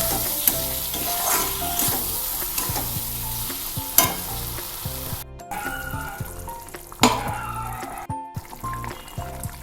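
Ground peanut paste is stirred into a frying pointed gourd curry, loud close sizzling with irregular spoon knocks and scrapes against the pan, brief pauses between strokes and a wetter bubbling texture, no talking.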